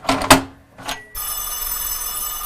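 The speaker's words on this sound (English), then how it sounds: "Oh, phone." A telephone rings with a steady, continuous electronic tone that starts partway through, after a few short clattering knocks and rustles nearby.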